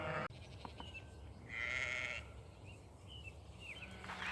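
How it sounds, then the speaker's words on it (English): Ewes and lambs on pasture bleat several times, one louder bleat nearby and fainter calls scattered behind over a soft outdoor background. "we are giving the sheep new grass every day, which means the lambs and the ewes all move"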